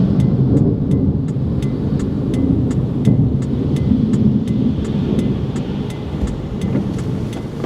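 Thunderstorm heard from inside a car in Indiana, with steady heavy rain drumming on the roof and body and low rolling thunder rumbling throughout, loud and continuous with no voices.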